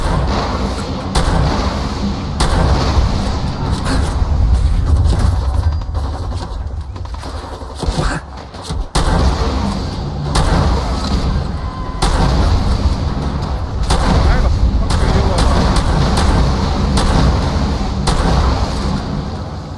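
Gunfire in Fallout 4 comes as near-continuous heavy shooting and booming blasts, loud and dense throughout with brief dips, under occasional talk.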